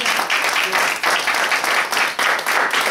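A church congregation applauds in sustained, dense clapping that swells and dips in waves, fairly loud and close, with voices mixed faintly in the crowd noise.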